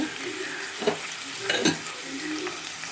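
Food frying in a pan with salt being stirred: a constant sizzle broken by a couple of scraping stir strokes, close and clear with no talk.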